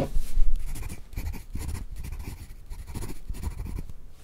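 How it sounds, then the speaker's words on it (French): A pencil scratches across paper in short, rapid strokes, close and dry, with brief pauses between bursts. "Le son est pas mal pour le crayon à papier."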